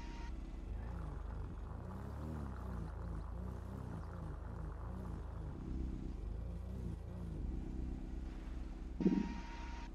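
BMW car engine in the FiveM roleplay game set in 1980s California, a steady low rumble with slow rising and falling revs, close and continuous, with a brief sharp blip near the end and no talking.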